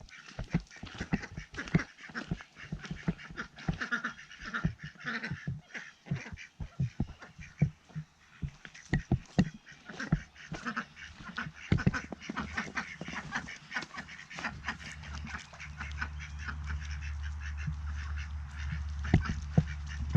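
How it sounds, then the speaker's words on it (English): Ducks quack in quick, scattered bursts close by, a soft busy chatter, with a low rumbling hum coming in near the end. "What are you doing, ducks?"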